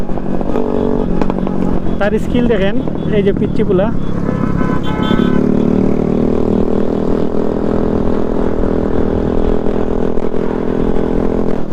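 A motorcycle engine hums and revs steadily nearby while someone talks over it, with a brief horn toot amid the running motor noise, as a young rider shows his riding skills.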